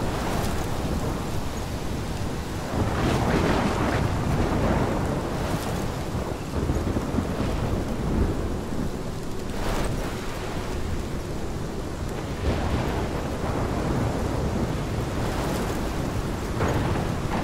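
Thunderstorm from the video game Life is Strange, with driving rain and gusting wind roaring continuously and repeated thunder cracks and rumbles breaking through every few seconds, loud and close, with no speech.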